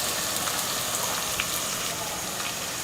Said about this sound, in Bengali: পেঁয়াজগুলোকে একটু হালকা ব্রাউন করে ভেজে নিতে হবে